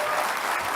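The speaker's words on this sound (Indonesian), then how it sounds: "Kita beri aplaus untuk Pak Anies." Audience at a Jakarta gubernatorial debate applauding for Anies, a brief dense wash of clapping from a crowd.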